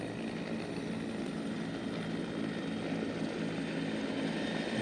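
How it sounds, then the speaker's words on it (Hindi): Military helicopters, including Bell 412s, fly past the saluting dais at the Pakistan Day Parade 2024, a steady loud rotor and engine roar sustained throughout with no speech. "इस वक्त सलामी के चबूतरे के ऐन सामने से गुजर रहे हैं"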